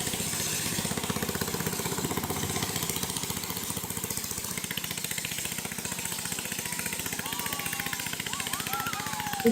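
A boat engine chugs steadily as the boat runs across the water, a dense, rhythmic mid-range drone that stays constant throughout, with faint voices and a thin tonal squeal in the background.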